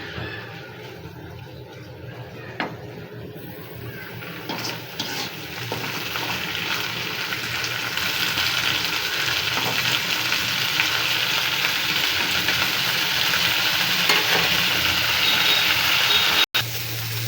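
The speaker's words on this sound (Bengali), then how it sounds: "এখন আমি এটাকে ভাজবো তেলের উপরে।" Shrimp and shapla (water lily) flower mixture sizzles steadily in hot oil, a continuous close frying hiss that grows louder partway through, with occasional stirring scrapes.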